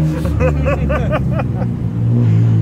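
A loud, rough old tuk-tuk engine rumbles close by and passes in Bangkok, with a voice talking briefly over the din.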